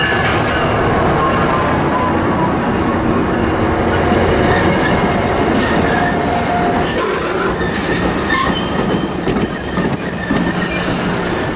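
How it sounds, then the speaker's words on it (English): MARC commuter train led by an MP36 locomotive with a four-car consist pulling into Brunswick, a loud, close rumble of wheels on rail with sustained metallic squealing and clatter, no voices. "Mark P873 was the first victim of the day, with an MP36 leading a Japanese four-car consist as it terminates here in Brunswick."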